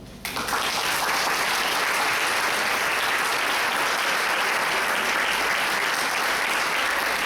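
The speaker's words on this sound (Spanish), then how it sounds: "me voy a permitir pedirle a la concurrencia que le otorguemos otro aplauso" An audience at an academic lecture on the Puerto Rican economy breaks into sustained applause, a loud, dense, even roar of many hands that starts abruptly and continues unbroken for about seven seconds.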